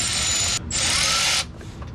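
A wrench ratchets loudly and rapidly in two close bursts while vehicle bolts are tightened during weekend maintenance, followed by quieter mechanical rattling.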